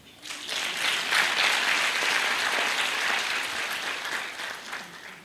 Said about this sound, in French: C'est là où vous applaudissez.